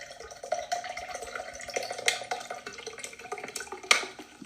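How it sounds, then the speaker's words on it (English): A beverage is poured into a glass, a soft liquid trickle and splash with a few clinks, close and fairly quiet. "he's pouring the beverage"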